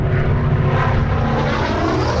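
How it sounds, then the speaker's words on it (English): Hawker Sea Fury, a post-World War II single-engine piston fighter, flying in a naval formation: a loud, steady propeller-engine drone with a deep rumbling low end, holding constant throughout without voices. "The third aircraft in the naval formation was the Hawker Sea Fury."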